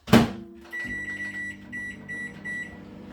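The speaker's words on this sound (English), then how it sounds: "what we're going to do is put these in the microwave" A microwave oven runs with jacket potatoes inside on a microwave-safe plate, opening with a clunk and then a steady electric hum topped by a faint high whine.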